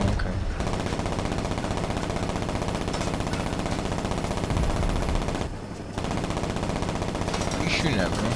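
Gunfire in the video game Saints Row comes as loud, nearly continuous automatic bursts that keep going with only a brief lull, with game voices faintly under the shooting.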